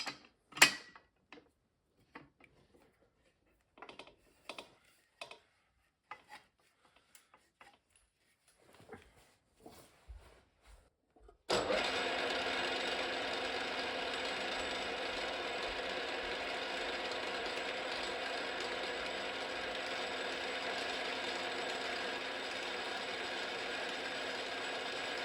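A power drill bores into a hitch piece being built for a Massey Ferguson 35 tractor: scattered light clicks and handling knocks at first, then a steady, loud drilling whine that runs on unbroken.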